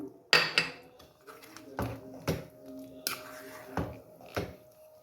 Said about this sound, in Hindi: अब हम टमाटर डाल देते हैं और साथ ही स्पाइसेस भी डाल देते हैं।